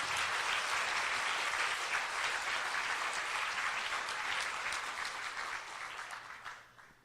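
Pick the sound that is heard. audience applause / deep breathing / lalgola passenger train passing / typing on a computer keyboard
audience applause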